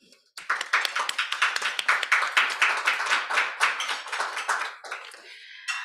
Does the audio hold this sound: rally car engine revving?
no